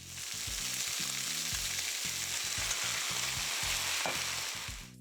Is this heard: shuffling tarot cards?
no